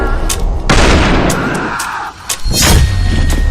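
A gunshot effect goes off in a Squid Game challenge video game, a loud crack with a rushing tail, followed by more bursts shortly after.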